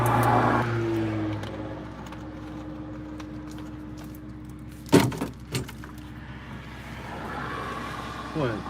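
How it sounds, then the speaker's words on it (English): Road traffic with many cars passing during tourist season, a steady wash of engine and tyre noise with a few sharper nearby bumps and clunks, heard from close by. "there's a lot of cars, a lot of traffic"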